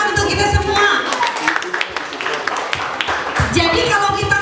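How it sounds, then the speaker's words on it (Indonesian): An audience at a joint Christmas service of a Papuan orphanage and a children's church claps in a dense, steady patter, mixed with voices throughout. "Tepuk tangan untuk kita semua."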